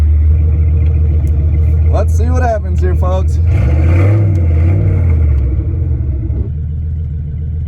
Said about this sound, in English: letting the car warm up